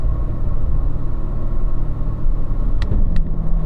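Corvette on a track during a performance driving school lap, a loud steady engine rumble heard from inside the car, continuous and close, with two brief sharp higher clicks near the end; no talking.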